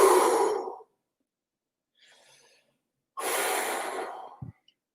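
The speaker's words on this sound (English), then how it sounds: "you start off by taking some deep breaths" Slow, deep breaths are drawn and released close by, with a long exhale, a faint quiet inhale, then another long breath out ending in a soft click.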